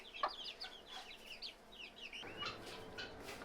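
A broody hen clucks softly and steadily at a farm, with chirping chicks and other fowl around her, in a faint outdoor scene.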